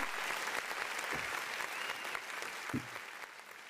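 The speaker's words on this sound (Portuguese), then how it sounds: "Muito bem, palmas" Sustained applause from an audience, a dense even wash of clapping that tapers slightly at the end, with a couple of brief low thumps.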